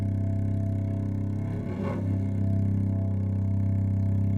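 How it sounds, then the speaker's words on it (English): A cello holds a drone: one loud, low, bowed note that sustains evenly with rich overtones and no break. "Me creating a cello drone."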